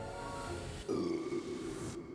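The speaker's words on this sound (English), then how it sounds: "And I just burped" A single short burp from a person tasting food during a cooking competition, a low throaty belch that comes out close and clear over a steady background hum.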